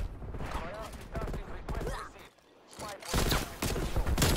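Burst-fire gunfire from a Call of Duty Warzone match with the CARV.2 rifle. Repeated loud volleys and rapid shots fill the clip under a player's excited voice.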